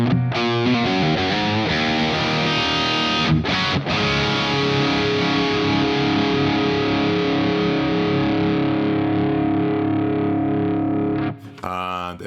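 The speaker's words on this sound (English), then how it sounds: "It's got 2 amps, it's got an EQ, and it's got a reverb at the end." A heavily distorted electric guitar through a preset with two amps, an EQ and reverb rings out chords that sustain and slowly decay in a reverberant space, loud and alone before cutting off.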